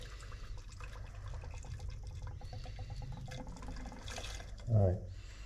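Burnt bronze Cerakote coating drips out of an opened can, a soft steady trickle under background noise, ending in one louder splattering drop near the end.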